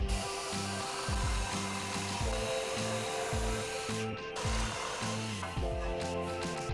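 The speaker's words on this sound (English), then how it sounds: "drilling down the rather large hole here with the drill." A steady mechanical drone with rhythmic low pulses, a drill boring a large hole in wood, loud and close and continuous throughout.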